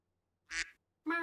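A duck gives two short, close, nasal quacks, the second longer and more tonal, with silence before and between them.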